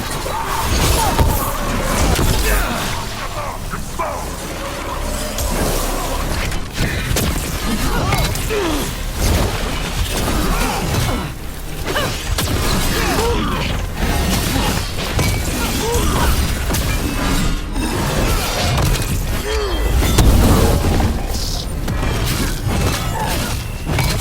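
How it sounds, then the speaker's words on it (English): Heavy cannon fire and explosions fill a battle in the video game Dragon Age: The Veilguard, with a dense, continuous roar of crashing blasts, thuds and clatter and no pause for the whole stretch. "Watch yourself. They have Gatlock cannons."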